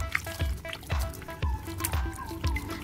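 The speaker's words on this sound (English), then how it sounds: "If the bucket is too small or the water is not enough for all the plants, we need to splash it like this." Water splashed by hand over cuttings of air-layered plants standing in a bucket, a series of close, wet trickles and drips repeating about every half second.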